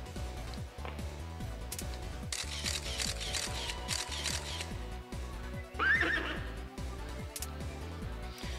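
A horse in the Persona 2 video game gives a clear whinny partway through, over rhythmic clip-clop hoofbeats and game music, with a camera shutter click nearby.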